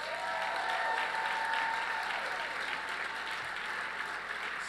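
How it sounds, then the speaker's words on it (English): Sustained audience applause at a recognition luncheon, a steady dense wash of many hands clapping for several seconds at even loudness, with no voices on top. "one more round of applause for everybody"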